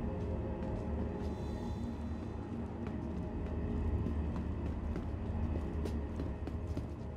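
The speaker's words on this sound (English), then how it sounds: "Walk on one of these trains, just wait for it to depart." A train departs in the video game Star Citizen, heard as a steady, dense mechanical rumble and hum that stays loud and constant throughout, with faint clicks and rattles on top and no talking.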